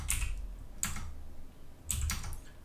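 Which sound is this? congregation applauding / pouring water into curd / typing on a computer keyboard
typing on a computer keyboard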